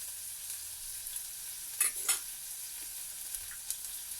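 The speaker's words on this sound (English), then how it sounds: "So I'm frying the onions that were in the fridge that had already been cut." Chopped onions sizzling in a frying pan while being stirred, a soft steady hiss broken by a couple of brief scraping stirs, fairly quiet with no talk.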